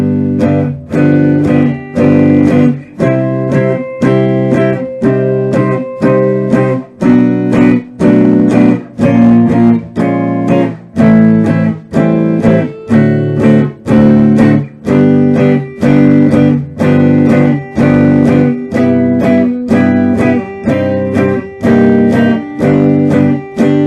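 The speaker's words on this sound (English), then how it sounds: "The second chord progression is going to start on G" Electric guitar playing a straight, evenly strummed chord progression beginning on G, steady rhythmic strums repeating for about twenty seconds, loud and close with no talking.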